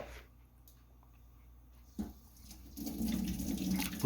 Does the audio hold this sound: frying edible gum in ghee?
no